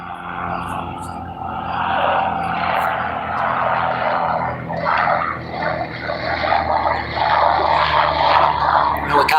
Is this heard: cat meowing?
no